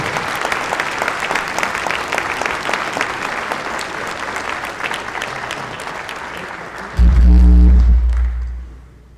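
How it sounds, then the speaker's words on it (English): An audience at Peace in the Streets Dallas 2018 claps their hands in steady, dense applause that carries on throughout, ending in a loud low thump near the close. "Y'all, come on, clap your hands."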